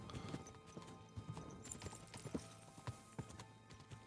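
Quiet, irregular clip-clop of horse hooves in the video game Kingdom Come: Deliverance II, several overlapping steps at a walking pace, with faint background noise.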